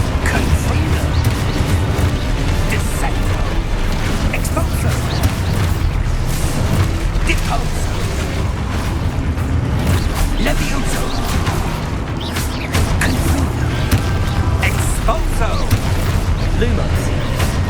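The Expulso explosion spell in Hogwarts Legacy sets off repeated loud booms and blasts amid constant combat clatter and sharp magical impacts, with a voice calling out spells over the chaotic fight.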